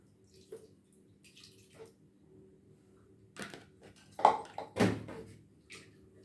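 Water poured into a cooking pot of ground spice paste while preparing Surabaya-style layered beef from sacrificial qurban meat; after a quiet stretch, a few short close splashes and pours with small clinks.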